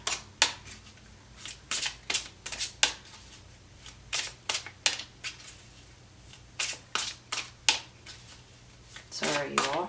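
Tarot cards shuffled by hand to draw a single clarifier card: a loud, close run of crisp riffling bursts, one after another, with a faint hum underneath.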